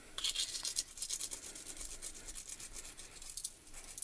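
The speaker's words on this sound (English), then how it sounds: "And I do have a little Spellbinders brush." A small Spellbinders brush sweeping die-cut paper pieces out of a metal cutting die, a steady bristly scrubbing in quick short strokes, close up with no talk.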